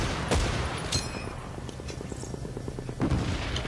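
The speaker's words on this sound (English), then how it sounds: "now they're shooting me" Gunfire in the Battlefield 1943 video game on Guadalcanal, with sharp scattered shots and a rapid run of rattling bursts under a constant background wash.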